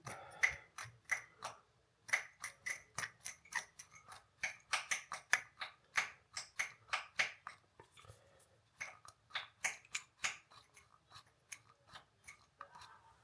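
A Colgate pump toothpaste dispenser is pressed again and again, giving a rapid run of faint, close clicks and squishes in an irregular rhythm, with no talking.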